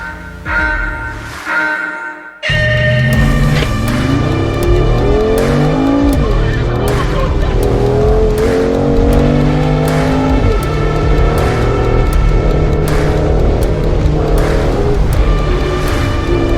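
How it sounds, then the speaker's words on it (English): A deep V8 exhaust from a Mercedes G63 or Land Rover Defender V8 off-road SUV rumbles loudly and continuously on an off-road course, swelling and revving in waves as the engine pulls, after a brief quieter start. "I've got that powerful rumbling exhaust"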